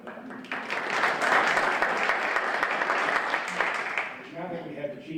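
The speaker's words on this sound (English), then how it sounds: "Now that we have the cheap applause out" Audience applause at a question-and-answer session after a presentation, a dense steady wash of clapping that swells and then thins toward the end, with voices starting to talk beneath it.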